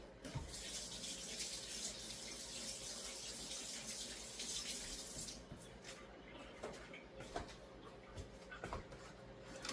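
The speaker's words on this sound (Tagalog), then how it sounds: "Maghuhugas ako ng kamay." Hands are washed under a running kitchen tap while baking a carrot banana cake. Steady water flow runs for about five seconds and then stops, followed by faint drips and small clicks at low level.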